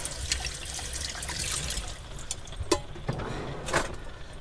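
Tap water runs and splashes in a small sink in a camper van as food is rinsed in salted water, a steady close trickle with a few sharper splashes toward the end.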